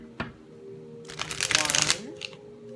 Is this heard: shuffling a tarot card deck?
yes